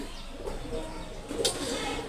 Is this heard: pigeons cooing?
yes